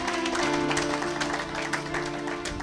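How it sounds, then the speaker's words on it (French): A church congregation at a French-language worship service claps in a steady wash of applause, moderately distant, with a held musical tone or organ-like drone running beneath it. "Acclamons pour la gloire de notre Dieu."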